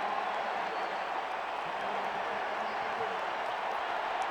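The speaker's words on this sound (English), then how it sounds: "Things seem to happen faster when the crowd is going wild here in Autzen Stadium" A large stadium crowd roars at Autzen Stadium during a 2007 USC at Oregon college football game, a constant broadband wash of cheering with a commentator talking over it.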